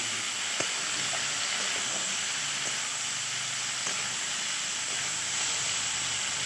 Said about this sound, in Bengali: এবার একটু ভেজে নেব মশলাটা